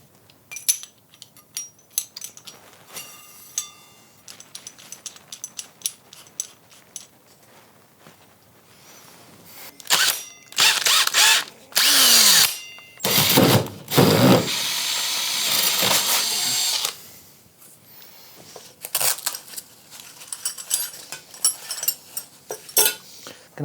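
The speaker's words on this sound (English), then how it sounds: "found the hole where I need to drill" A power drill with a 3/4 inch bit bores into a wooden ceiling joist during a light installation, loud whirring bursts grouped mid-clip between quieter clicks and handling clatter.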